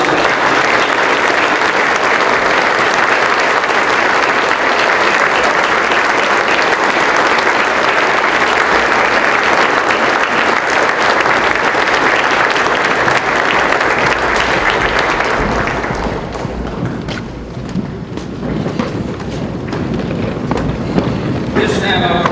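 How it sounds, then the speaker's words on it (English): Loud, sustained applause from a large banquet crowd at a formal military dinner honoring the Marine Military Academy, dense clapping filling the room for about fifteen seconds before thinning to scattered claps and murmuring voices. "please join me in a round of applause for the Marine Military Academy 2000"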